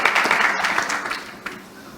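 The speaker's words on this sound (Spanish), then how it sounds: "Por favor, un fuerte aplauso para la doctora." An audience at a school mediation conference applauds a speaker, a short spell of moderate clapping that fades out within a couple of seconds.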